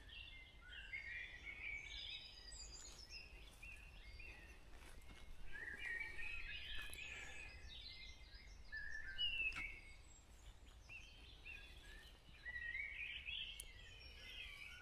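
Birds sing in a forest after sunrise, with overlapping chirps and warbling phrases at a moderate distance, steady throughout over a faint insect and ambient hiss background.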